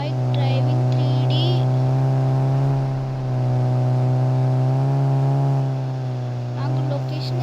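A car engine in the mobile game India Bike Driving 3D, a steady droning hum that holds for several seconds with slight pitch swells, loud and close.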